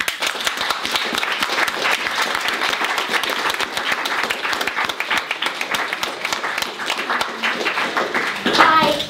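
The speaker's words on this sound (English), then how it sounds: "So a round of applause." A crowd applauds steadily with dense, sustained clapping throughout, fairly loud, tapering slightly near the end.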